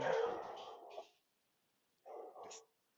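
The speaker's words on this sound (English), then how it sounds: "The dog seems to be going crazy here." A dog barks in two short bursts, the first longer and louder, separated by a second of silence.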